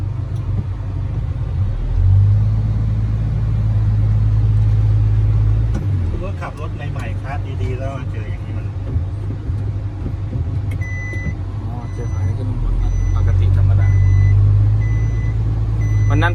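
A car backs into a parking spot beside a lot: a low, steady engine rumble swells and fades, and a string of evenly spaced reversing beeps sounds near the end while people talk.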